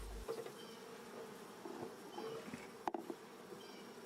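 Honey bees at an open hive being smoked during queen searching, a faint, close buzzing drone with small wing flutters and a brief knock near the end, no talking.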